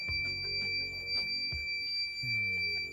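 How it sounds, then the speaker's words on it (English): A 300-watt power inverter sounds its low-battery voltage alarm as a 90 amp-hour AGM battery runs down. The high-pitched electronic tone holds steady for the full three seconds over low background noise. "That's the alarm, guys."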